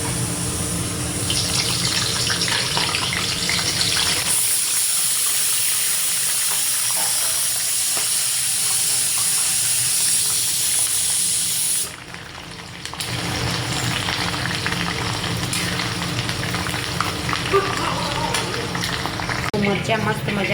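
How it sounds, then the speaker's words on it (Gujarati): Green chillies deep-fry in hot oil, making a loud, steady, close hiss that briefly drops away around the middle before the bubbling sizzle resumes strongly. "ચાલો આપણે મરચાં તળી લઈએ."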